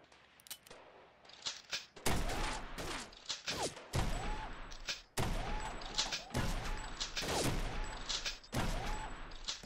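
Shotgun blasts in the VR shooting game Gun Club VR: loud, close booms spaced roughly a second apart, each with a sharp crack and short decay, mixed with reload clacks and mechanical handling noises.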